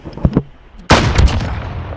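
Two small clicks come first, then a single sharp, loud sniper rifle shot in a video game, followed by a long fading echo.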